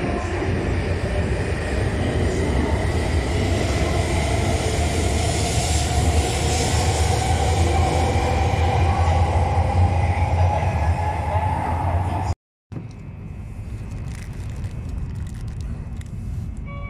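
A long coupled train bound for Sendai rolls past a Japanese station platform on a cold day, a loud, steady rumble with grinding wheel noise for about twelve seconds before breaking off abruptly into a quieter, lingering hum.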